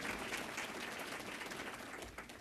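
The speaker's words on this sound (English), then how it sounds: "Let's give them all a big round of applause for supporting this work." A conference audience at a national emergency gentrification summit claps in sustained, dense applause that holds steady throughout, with many hands blending into a broad wash.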